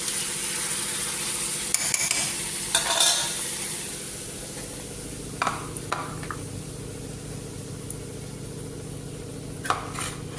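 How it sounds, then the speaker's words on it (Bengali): Ghee is stirred and sizzles in a pan, a soft continuous fry with occasional scraping clinks of a utensil against the metal, close and without talk. "ঘি বানাইতেছে"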